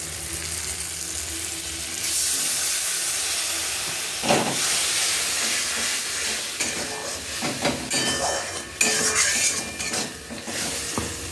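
Spice paste hisses and sizzles in hot oil in a pan while cooking jackfruit with prawns, with scraping stirs and clattering bursts breaking through a steady frying hiss.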